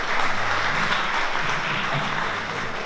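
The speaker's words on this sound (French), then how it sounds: "Voilà, vos applaudissements chaleureux." Warm applause from an audience at a social action conference, many hands clapping in a thick, sustained wash at fairly loud volume, with faint murmuring under it.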